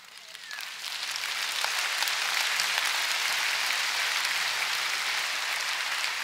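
A church congregation claps for God during a Protestant sermon, a dense wash of hand clapping that swells in after a second and holds steady and loud, no voices over it.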